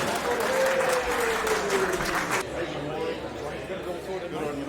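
An audience at a boxing hall of fame event claps loudly and steadily. The applause is dense and sustained, and a voice speaks over it.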